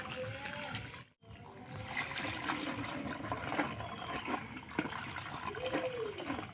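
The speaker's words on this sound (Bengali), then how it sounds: "পাস্তাটা সেদ্ধ হয়ে গেছে এবার নামিয়ে নিচ্ছি এবার ঠান্ডা জল দিয়ে ধুয়ে নেব" Freshly boiled pasta being rinsed under cold running tap water, a steady close splashing and trickling stream that carries on without a break, while kitchen noise sounds faintly underneath.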